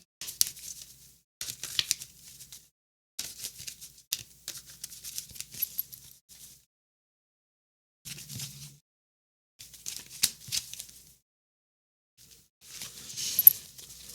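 Tarot cards are shuffled and laid out in bursts of close papery rustling, flicking and crinkling, with short silent gaps between bursts and no voices.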